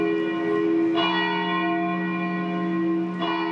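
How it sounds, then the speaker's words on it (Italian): The Vajont memorial church bell rings out with a sustained, resonant metallic tone, struck again near the start and end so fresh strikes bloom over the lingering hum, loud and clear with no talk. "chiedendo però che all'ora del disastro ci si fermi tutti al suono della campana del Vajont, che ogni anno ricorda le vittime"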